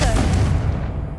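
A Confringo blasting spell in Hogwarts Legacy bursts into a loud, close, booming explosion that fills the brief moment and then starts to fade.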